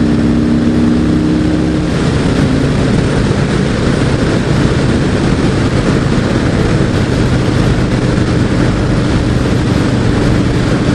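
A stock 2017 Harley-Davidson Road King Special cruiser on the move gives a constant, loud, dense roar of engine and rushing wind. A low engine drone is audible at first before blending into the steady noise.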